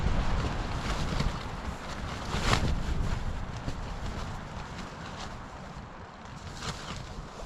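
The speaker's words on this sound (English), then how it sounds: "That's some wind." Steady strong wind buffets the microphone at a High Sierra camp in Yosemite, a continuous broadband roar with a gust swelling midway, loud and close with no voices.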